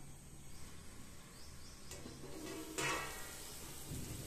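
A covered pot of water boils for coriander rice with a soft, steady bubbling hiss, joined by a couple of brief clatters near the middle.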